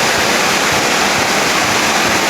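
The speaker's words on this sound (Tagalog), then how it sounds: "Baha na yung kalahati ng court." Floodwater pours into a court during a heavy thunderstorm, making a loud, steady rush of water that holds constant throughout with no voices.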